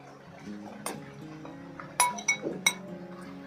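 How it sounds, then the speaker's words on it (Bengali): Leftover coconut is added to a mixer grinder jar for chutney, heard as a few scattered light clinks and taps of glass and metal, close by and moderately loud. "এবার মিক্সি জারের মধ্যে দিয়ে দেব আমরা যে বাকি নারকেলটা রেখেছিলাম ওইটা দিয়ে দেবো"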